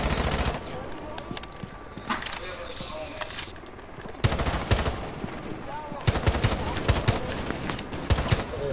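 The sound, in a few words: enemies shooting guns in a video game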